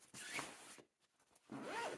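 Zipper on a pocket of a KROSER 18.4-inch travel laptop backpack being pulled open in two quick close-up runs separated by a short pause, crisp and distinct with no talking.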